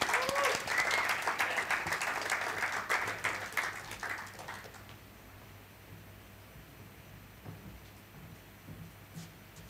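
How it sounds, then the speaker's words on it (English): Audience applause welcomes speakers onto the stage at a regional keynote session, a dense burst of clapping that is loud at first, then thins and fades to scattered claps and quiet room tone. "with a very warm welcome of applause"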